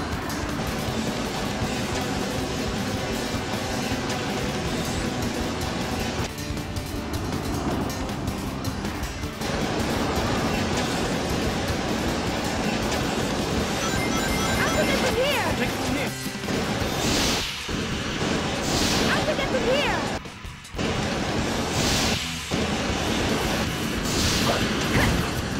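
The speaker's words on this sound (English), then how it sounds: "These trains! Get ready! Here they come!" Trains thunder past in the Sonic Heroes game during a Team Dark stage, a loud, sustained mechanical roar broken by crashing impacts, with game voices and effects layered over it.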